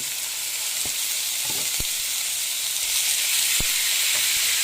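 Chicken pieces sizzle and fry with onions in a hot pan, a continuous crackling hiss with occasional sharp pops and faint stirring clinks, no voices.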